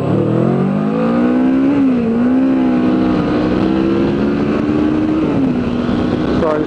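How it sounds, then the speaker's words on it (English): Car driving past on a road, a loud engine tone rising and bending as it approaches and passes close by, then fading, with a steady background hum. "Just wait for this car to go past and then I'll move up a bit closer."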